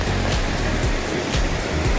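Waterfalls along a creek beside a hiking trail pour with a loud, steady rushing roar that fills the whole moment with no talking.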